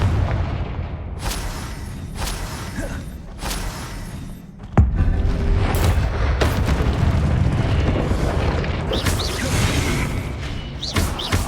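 Repeated Confringo blasting-spell explosions in Hogwarts Legacy, with sharp booming bursts early and then a big blast followed by sustained rumbling chaos of spell effects.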